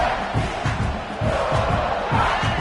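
A college football stadium crowd roars continuously and loudly, a dense sustained wall of cheering and yelling with no clear pauses.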